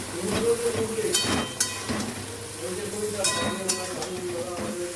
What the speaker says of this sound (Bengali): এবার পেঁয়াজ দিয়ে দিলাম আর তার সাথে দিয়ে দিয়েছি হচ্ছে পাঁচফোড়ন পেঁয়াজটাকে ভালো করে ভেজে নিই